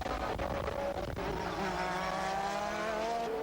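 1988 Formula 1 race cars, with Senna's McLaren passing Gerhard Berger's Ferrari, produce a high, sustained engine whine with rising harmonic pitch, loud and close under broadcast crowd noise.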